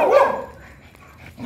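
A dog gives one loud, close bark at the start, followed by quieter yips or whimpers fading under light background noise.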